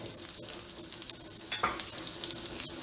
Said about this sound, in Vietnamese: Mình đang xào lưỡi vừa nha các bạn